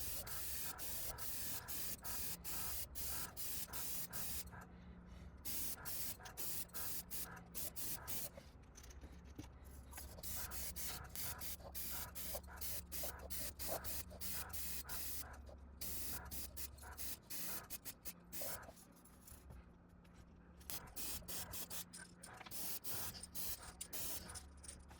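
A Gaahleri Mobius 0.2 mm airbrush sprays paint onto FireTiger fishing lures in steady, close hissing bursts, with short pauses between passes over a low background hum.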